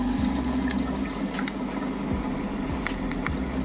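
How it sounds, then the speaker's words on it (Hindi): Homemade budget air cooler's water pump running, a steady low hum under a continuous rush and splash of water flowing under pressure, close and unbroken, with small drips and trickles scattered on top. "पंप चलने लगा हमारा, और पानी कितना प्रेशर से आ रहा है आपको आवाज़ सुनाई देगा"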